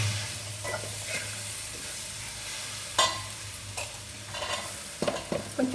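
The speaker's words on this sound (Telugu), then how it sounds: "ఇప్పుడైతే శనగలు తిరగమాత పోసేస్తానండి" A hot tempering is poured over boiled chickpeas, giving a soft, steady sizzle with intermittent scraping stirs and clinks close by, no voices.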